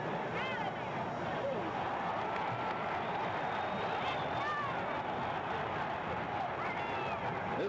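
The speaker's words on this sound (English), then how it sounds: "This crowd is in a bedlam as Rodgers shoots." Arena crowd at a 1964 NBA Finals basketball game between the Boston Celtics and San Francisco Warriors roars steadily throughout, a dense continuous wall of cheering with whistles and shouts rising above it.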